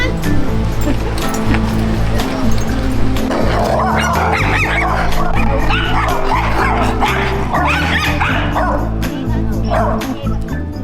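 Several dogs yip, whimper and bark excitedly at a campsite, loud and close, with steady low hum underneath and a person's voice speaking over them.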